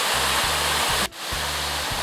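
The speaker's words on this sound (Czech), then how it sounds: "A máme zde první krásné vodopády." A waterfall on a levada trail in Madeira roars loud and steady at close range, a broad continuous rush of falling water with a brief dip in level partway through.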